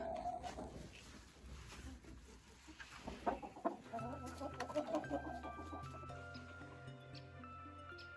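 A Faverolles rooster and hens cluck in a village henhouse in winter, low rhythmic clucks and short calls rising and falling near the nesting area, with no one speaking.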